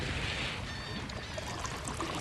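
Water tipped out and spilling over a container's edge in a steady, continuous pour, close and moderately loud with no talking.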